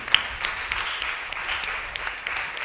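A church congregation at a Rosh Hashanah trumpet feast claps together, steady brisk applause filling the room with a few sharper individual claps standing out.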